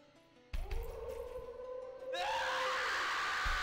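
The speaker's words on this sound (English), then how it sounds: "screaming for help" Screaming voices cry out in the horror video game Gakkou de Atta Kowai Hanashi S, starting abruptly and swelling into a louder, sustained wail over droning background tones.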